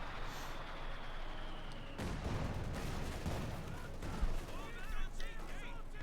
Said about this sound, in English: more artillery fire